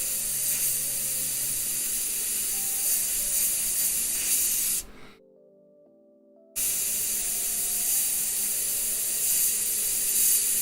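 An airbrush sprays paint in a steady, loud, close hiss that cuts out to near silence for about a second and a half midway, then resumes just as before.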